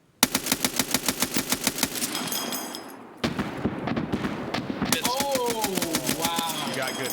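An AGS automatic grenade launcher firing in Escape from Tarkov, heard as a rapid string of heavy thumping shots, then a pause and more fire with distant impacts, with players talking over the gunfire.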